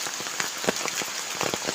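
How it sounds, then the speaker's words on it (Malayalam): Heavy rain pouring down at a house, a dense steady hiss with scattered drop impacts close by, continuous and with no talk. "അപ്പൊ ഇവിടെ ഭയങ്കര മഴയാ"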